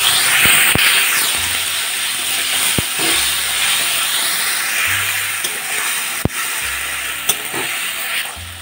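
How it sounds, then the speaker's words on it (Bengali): Tomato puree sizzles loudly in hot oil tempered with cumin, a dried chilli and bay leaves, a steady hiss throughout with occasional clinks and scrapes of stirring. "ফোড়নটা তৈরি হয়ে গেছে, টমেটো পিউরিটা দিয়ে দিচ্ছি।"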